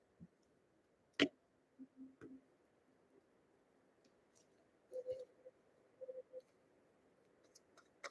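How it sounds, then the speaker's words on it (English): Tarot cards shuffled by hand in a quiet room, giving sparse soft flicks and papery taps with a couple of sharper snaps and long near-silent gaps. "Let me shuffle this some more."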